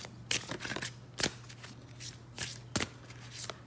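Tarot cards being shuffled in several brisk, close riffling bursts with short pauses between, over a faint steady hum.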